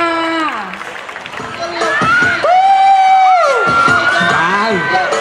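Crowd cheering and shouting, with whoops and some clapping, at a 2016 university cheerleading event for the Faculty of Accountancy; a loud, dense wall of voices with a rising high-pitched cheer and a voice over the top.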